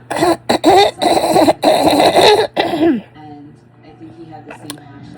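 A person gives a series of harsh, wet coughs clearing phlegm, several loud close bursts in quick succession, followed by quieter throat sounds and breathing.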